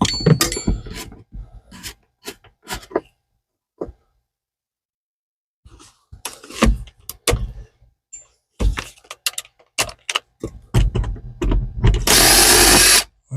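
A ratchet backs Torx screws out of a Turbo 302 Ford Ranger, with short, scattered bursts of clicking and scraping separated by quiet gaps. A loud, rough burst near the end closes the sequence.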